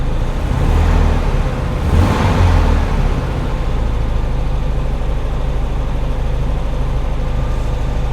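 A fuel-injected 1975 VW Beetle engine idles on a cold start, a loud, steady, close air-cooled rumble with a throbbing low pulse that holds evenly for the whole stretch.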